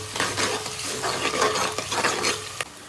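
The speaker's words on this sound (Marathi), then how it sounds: "वाटण आहे ना मस्त फ्राय करून घेतले मी हे का असं आवाज येतो वाटणचा" A ground paste of onion, coconut, ginger, garlic and green chilli fries in a pan, giving a steady close sizzle with scraping spoon-and-pan stirring throughout, no talking.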